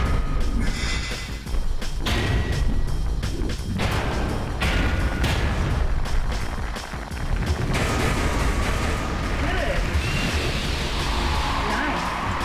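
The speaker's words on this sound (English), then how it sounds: "One of the new tricks of the Jaguar is the particle cannon" Rapid bursts of particle-cannon fire from the Jaguar robot in the fighting game One Must Fall Battlegrounds, repeated thuds and booms layered over constant loud game noise and music.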